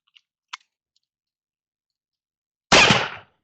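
An 1851 London Navy percussion revolver fires one loud, close shot, preceded by two faint clicks from the action.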